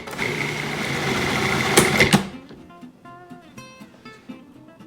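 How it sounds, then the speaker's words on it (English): A food processor purees beans into a coarse mash with a loud, steady whirring grind for about two seconds, then cuts off, leaving faint clicks and kitchen sounds. "So I have my beans back in the hopper of my food processor, and I'm going to make a coarse puree out of this."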